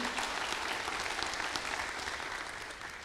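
Audience applause for students at a town hall event on port town resilience, steady and dense clapping throughout, close and fairly loud, tapering slightly at the end.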